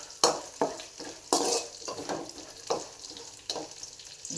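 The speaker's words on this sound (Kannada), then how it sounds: "ಬಣ್ಣ ಬರೋ ತನಕ ಫ್ರೈ ಮಾಡಿ." Poha chivda frying and being stirred in a pan over low heat, with a steady sizzle broken by several sharp scraping strokes of the spoon against the pan, close and clear with no talk.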